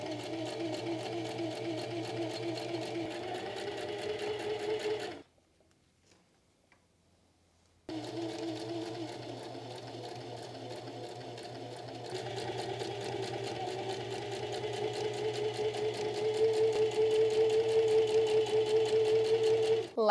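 A home sewing machine stitches a pillow in fast, steady bursts of rapid ticking, stopping for a couple of seconds of near silence before running on and picking up speed, close and clear.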